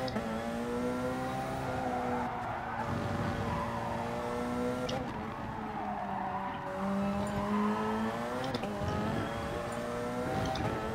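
A race car in Gran Turismo Sport loses rear grip and skids during an online Nations & Manufacturers Cup race. A sustained, loud engine drone rises and falls through gear changes, with brief tire squeal as the tail slides.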